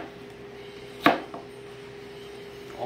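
A single sharp knife chop through an onion on a cutting board, followed by a fainter second tap, set against a quiet steady background hum.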